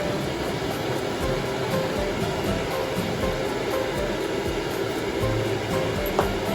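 A hair dryer blows steadily on a ferret's fur, giving a constant loud whooshing hum with no pauses for the full length.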